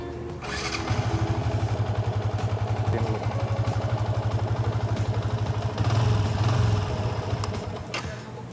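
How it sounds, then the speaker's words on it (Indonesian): A motorcycle engine starts during a throttle response test and settles into a rhythmic, chugging idle close by, with a brief rev swell near the end before tapering off. "ngetesnya bisa kita sambil nyalain motornya"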